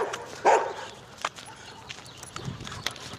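A few rough, raspy dog barks, one louder bark early on and softer scattered ones after, with light background noise and no talking.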